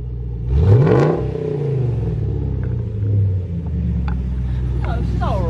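A car engine is revved a couple of times before a resonator delete, rising and falling with a deep rumble, then settling into a steady idle while people talk nearby.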